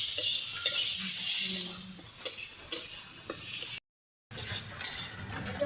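Fish and potato fry in a wok with a steady sizzle, while a utensil stirs and scrapes with intermittent metallic clinks, close and moderately loud, with a short gap of silence partway through.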